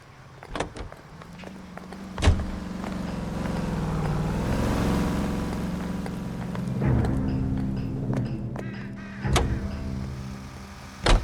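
A car driven in the video game L.A. Noire, with a sustained engine drone that swells and fades across the stretch, broken by a few sharp clunks and knocks near the start and end.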